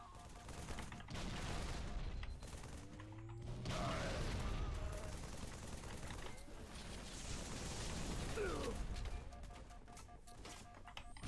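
Gunfire and mechanical weapon clatter from the Halo video game, with bursts of shots, ratcheting clicks and electronic tones layered over a steady game soundscape, fairly quiet overall.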